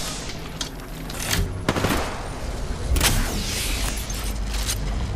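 Sustained gunfire in a battle-royale shooter, with bursts of shots cracking over a dense, noisy game mix and no voices.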